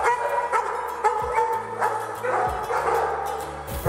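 Several hunting dogs bark and yip excitedly in a rapid, overlapping chorus, fairly close and loud throughout.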